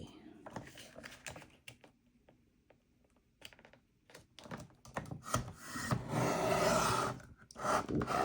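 Paper cards being trimmed on a paper trimmer at a craft table, two cards at a time: scattered rubbing and scraping slices, building to a long rasping cut near the end, with a voice speaking in between.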